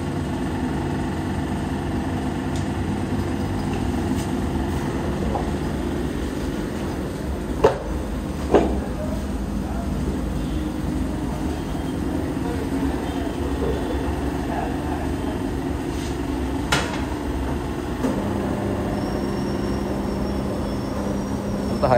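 A hydraulic tyre changing machine working on a Bajaj RS200 motorcycle tyre, giving a steady motor hum with occasional sharp mechanical clunks and a rising whine near the end.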